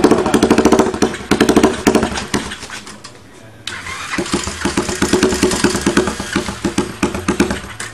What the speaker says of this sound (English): Can anybody pick up the back end so you can give it some revs?